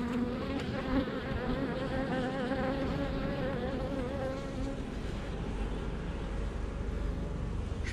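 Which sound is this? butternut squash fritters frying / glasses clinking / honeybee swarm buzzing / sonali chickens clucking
honeybee swarm buzzing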